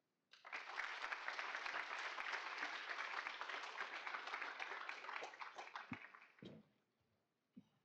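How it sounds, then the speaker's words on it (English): Loud, sustained applause from a sizable crowd, dense clapping for about six seconds before tapering off, with a brief burst of noise at the end. "one more round of applause for Matt."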